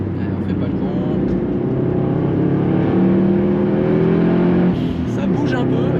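A Subaru WRX STI with 450 horsepower and 610 Nm pulls at full power on a greasy road, its engine roaring loud and close with climbing, wavering revs, while someone talks over it.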